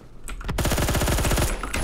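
Rapid automatic gunfire from an enemy's Colt SMG 633 in a shooter video game, a sustained burst of closely spaced shots lasting about a second, loud and close, with no talk over it.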